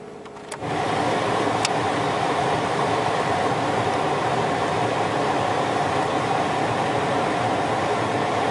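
A car engine runs at a steady 2500 RPM while the alternator is load tested with the defrost, blower and lights on. The drone starts within the first second, then holds loud and unbroken.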